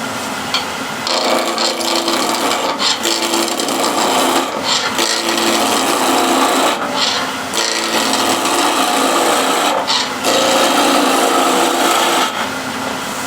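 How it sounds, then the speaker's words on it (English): A skew chisel roughs out wood spinning on a lathe: loud continuous scraping and rasping cuts of the blade against the workpiece, with brief dips as the tool lifts off, and no talk. "put it in a chuck, roughly center it, and we'll rough it out using your favorite skew"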